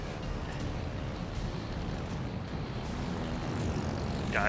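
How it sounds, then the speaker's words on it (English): Aircraft engines of a torpedo bomber squadron in World of Warships Legends, a steady, continuous propeller drone held at even loudness throughout, with no talking over it. "I've got a healthy squadron of torpedo bombers"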